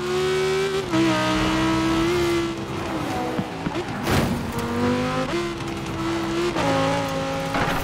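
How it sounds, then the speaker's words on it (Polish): Audi R8 engine in the racing game Forza Horizon 4, loud and close: repeated revving climbs and gear changes, brief dips and tire squeal, with no talking. "brzmienie tego Audi"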